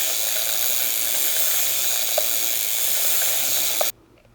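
A road bike chain runs backward through a clip-on chain cleaning tool as the pedals are spun in reverse. It makes a steady close whirring, scrubbing hiss that continues evenly, then stops abruptly near the end.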